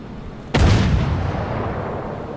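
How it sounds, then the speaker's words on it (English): A loud cannon-like blast of gunfire from a ship in the submarine game UBOAT booms out suddenly, then a long rumbling decay follows over steady background noise. "Something else is shooting at that ship."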